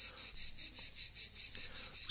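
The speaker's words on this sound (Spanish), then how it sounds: "Las cigarras consiguen sus sonidos haciendo vibrar un órgano que tienen" Cicadas, also called chicharras, sing in summer with a shrill, pulsing buzz, about eight regular bursts in quick succession, close and steady over faint background.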